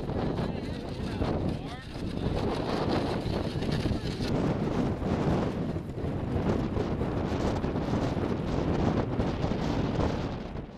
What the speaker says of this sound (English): The winds kick up strongly on leaving Fort Laramie.